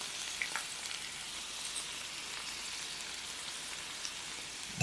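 Shredded cabbage stir-fried with seasoning in a pan over low heat, a quiet, continuous sizzle with soft crackles and occasional stirring clicks throughout.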